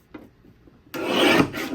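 A paper trimmer blade slides through blue and yellow card stock in one close, rasping stroke lasting under a second, after a few faint taps.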